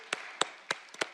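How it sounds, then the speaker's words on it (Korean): A church congregation claps in praise after the Lord's Prayer, five sharp separate claps spaced about every third of a second, fairly close and fairly faint with no talk over them. "우리의 예배를 받으신 주님께 영광의 박수 올려드리겠습니다"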